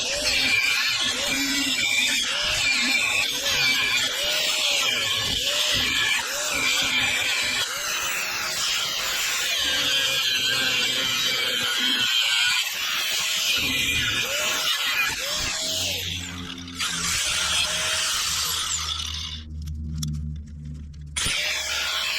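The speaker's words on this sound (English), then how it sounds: "I guess we just grind it on a bit of an angle here." A steel snow plow guard bracket being ground at an angle during a fit-up to a Peterbilt truck. A loud, continuous screeching grind runs for most of the stretch, then stops near the end, leaving a low rumble.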